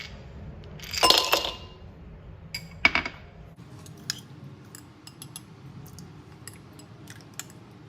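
Ice cubes drop into a serving glass for a passion fruit mojito with a bright clattering burst, followed by a sharper clink and then scattered faint ticks as the cubes settle, close and fairly quiet.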